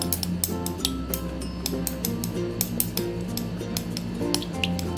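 A utensil stirs shea butter into a peppermint lip balm mixture in a small container, giving rapid, close metallic clinks and scrapes in a busy, continuous rhythm.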